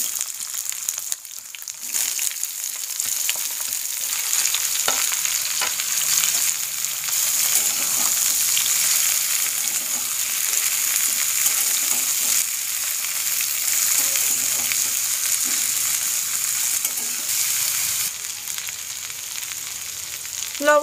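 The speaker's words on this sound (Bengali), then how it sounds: "তেল গরম হয়ে গেছে, ফ্লেমটা আমি লো করে দিলাম। এবার উচ্ছেটা দিয়ে দেব।" Sliced bitter gourd sizzles in hot oil over a low flame, a loud, steady close frying crackle with occasional stirring scrapes, no voices over it.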